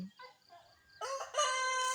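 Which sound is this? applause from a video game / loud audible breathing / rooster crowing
rooster crowing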